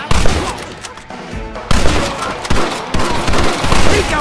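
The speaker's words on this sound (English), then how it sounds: "Open fire!" Repeated loud gunshots and volleys ring out in the video game Red Dead Redemption, sharp bursts at irregular intervals over a busy battle din, close and forceful.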